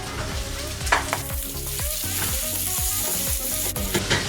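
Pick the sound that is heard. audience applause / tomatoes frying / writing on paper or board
tomatoes frying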